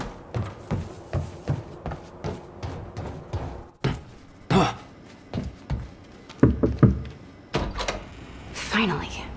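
A door opening and closing in the action video game Quantum Break, set in an industrial area, heard as a run of heavy thunks and knocks mixed with game sounds, while people talk over it.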